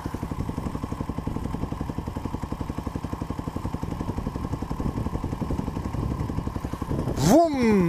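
A dirt bike engine runs steadily through mud, its rapid pulsing putter continuous and fairly close, with voices talking over it; near the end a brief rising whine cuts in as the throttle opens.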